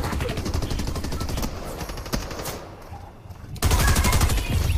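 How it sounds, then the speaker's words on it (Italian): Rapid gunfire from the video game Fortnite, dense bursts of automatic shots filling the opening seconds, a lull with a single crack, then another loud sustained volley near the end. "Per sparare a lei ho sparato a lui."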